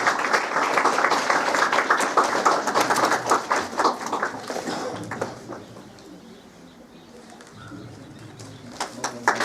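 Applause greets the chief guest at an Anti Leprosy Day health and family welfare event in Chamba, a dense crowd clapping that fades after a few seconds, leaving scattered claps and faint background bird calls.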